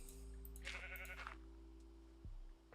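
A sheep in Minecraft bleats once in a short wavering call over a steady low background hum, faint and heard on its own with no talk.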